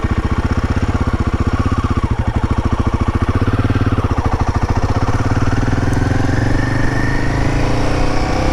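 A Royal Enfield Himalayan 450 motorcycle pulls away, its single-cylinder engine thumping in a steady, loud, close rhythm that gradually smooths out as it gathers speed, with no voices.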